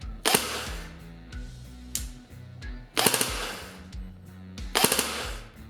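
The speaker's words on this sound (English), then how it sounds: "as it's a double barrel, that means that you're actually firing 6 or 10 shots at a time" A Classic Army DT4 double-barrel airsoft M4 fires three quick bursts, each a dense rattling clatter of rapid shots, with quieter mechanical clicks and rattles in the gaps between bursts.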